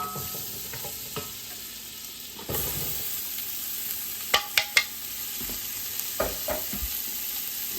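Diced carrots, celery and onion being stirred in melted butter in a pot, a steady soft sizzle with a few sharp spoon clinks and scrapes against the pan midway, close and alone with no talk.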